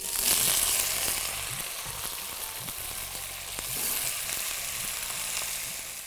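Potatoes sizzle steadily in hot oil in a pan for a Burmi aloo curry, a dense, continuous hiss that stays close and moderately loud, with no talking.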